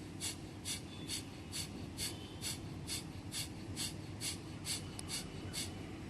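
Forceful Kapalabhati pranayama breathing: about a dozen sharp, rapid nasal exhalations at a steady, quick rhythm, close and clear against a quiet room.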